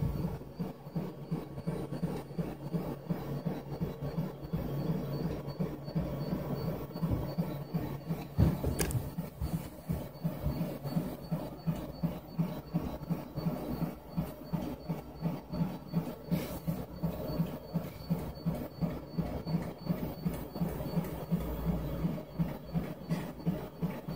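During bed leveling, a 3D printer bed moves upward with a steady, rhythmic mechanical hum and pulsing whir from its motors, continuous and moderately loud throughout.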